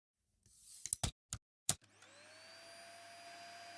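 Dyson Small Ball multi-floor upright vacuum cleaner: a few clicks and clunks, then the motor spins up into a steady rising whine and hum that continues to the end.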